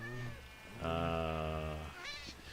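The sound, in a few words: cat meowing in a video game, Minecraft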